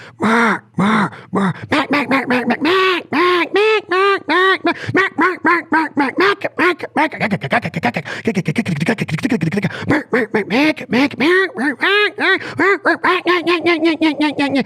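Duck calls blown to imitate a range of different ducks, a long run of loud close quacks and chattering feeding calls in quick, varied rhythms and pitches, with no pauses for talk.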